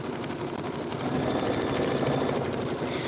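An embroidery machine stitches background quilting on linen, a steady, even mechanical whir that holds at constant level for about three seconds.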